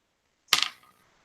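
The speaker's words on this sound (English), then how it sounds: "D12 followed by percentile dice" Dice clatter onto a table during a tabletop role-playing game session, a twelve-sided die followed by percentile dice: one sharp close rattle that quickly fades, with a faint small bounce after.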